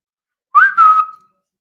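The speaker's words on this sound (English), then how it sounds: "Whistle was probably so loud. It was right on the mic." A single loud whistle sounds right against the microphone, a short sliding tone that breaks briefly and then holds before fading, alone in silence.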